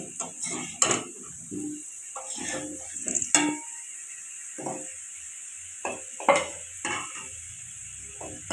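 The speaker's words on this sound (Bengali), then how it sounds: "এইভাবে আলুগুলোকে তিন থেকে চার মিনিট নেড়ে চেড়ে ভেজে নেব" Potatoes being stirred and fried in oil, with repeated scraping and knocking of a spatula against the pan over a soft sizzle, in irregular strokes close by.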